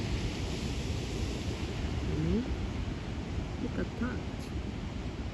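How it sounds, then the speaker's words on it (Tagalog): Ocean waves wash onto a beach in Chile as a steady, broad roar of surf that fills the whole stretch, with a brief spoken remark over it. "You see the waves, guys."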